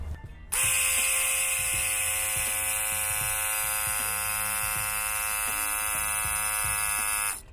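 An electric brake booster vacuum pump on a G-body Cutlass, powered on 12 volts, starts abruptly and runs with a loud, steady, high-pitched buzzing whine and a faint rhythmic pulsing underneath, then stops.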